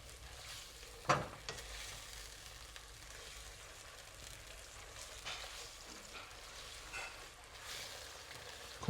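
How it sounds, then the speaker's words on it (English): Prawn sauce thickened with cornstarch solution, quietly stirred in a wok: a low bubbling sizzle with occasional utensil knocks and scrapes. "Slowly add in your cornstarch solution and thicken to the consistency that you like."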